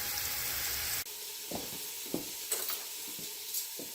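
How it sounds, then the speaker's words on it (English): A pork roast sears in an Instant Pot on the sauté setting, a steady close hiss of sizzling fat broken by a few soft knocks as the meat shifts. "I flipped the pork roast around. We're sauteing the second side, and then we'll do the ends as well."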